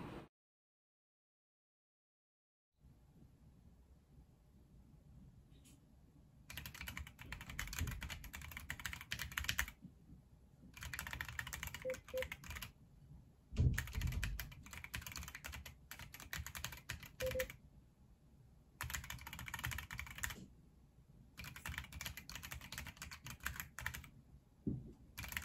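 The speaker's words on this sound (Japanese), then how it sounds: "それでは本日のタイピングになります。" Typing on a Keychron Q3 Pro mechanical keyboard produces bursts of close, crisp key clacks separated by short pauses, with occasional louder spacebar-like thocks. The keystrokes sound alone, without any voices.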